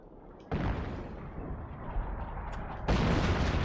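Artillery shells landing in a WWII video game battle: a dense, rumbling barrage of booms that rises sharply once and then swells again near the end, loud and continuous with no pauses.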